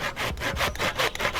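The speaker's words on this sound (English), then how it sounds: "you lift it up and you can saw like this" A hand saw cuts through wood lifted off the ground during trail work, close and loud, with about six rhythmic back-and-forth rasping strokes and no voices.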